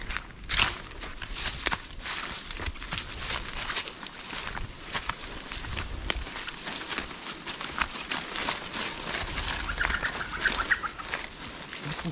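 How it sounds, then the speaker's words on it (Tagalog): Wild jungle fowl clucks now and then under close, crunching footsteps and outdoor rustling, the calls fairly faint against the steady walking. "Sabi ni Julie Kapsat, may manok gubat daw. na nakalipad"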